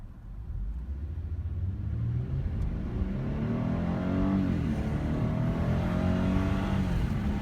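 A 2017 Genesis G80 with a 3.8 liter V6 accelerating, heard as a steady, rising engine rumble that builds in pitch and loudness over several seconds, heard from inside the car with no talking.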